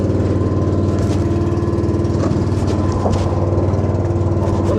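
Outboard engine on a beach boat running steadily and close, a constant mid-low throbbing drone with faint water and wind noise around it during herring netting.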